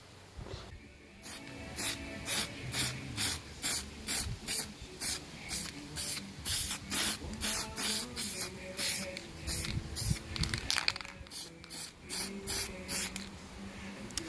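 Spray can coating a grill with black paint: a long run of rhythmic hissing bursts, short close repeated sprays with brief gaps, loud and steady with no talking.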